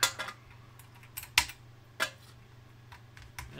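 Small sharp snips and clicks of cutters removing burnt components from a shorted 2000 W Ruthless Audio power supply board, a few isolated close ticks spaced irregularly over a faint steady hum.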